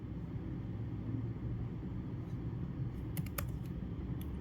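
Someone types a name and email into a form on a computer keyboard. A short burst of quick key clicks comes near the end over a steady low background hum.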